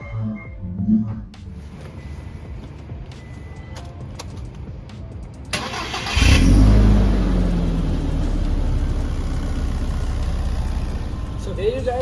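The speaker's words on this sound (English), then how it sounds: "I'm going to put the microphone close to the exhaust, and then I'm going to start the bakkie." A Toyota Hilux GR bakkie engine starts close at the exhaust. Quiet handling noise gives way to a sudden loud crank, and the engine settles into a deep, steady idle rumble that holds to the end.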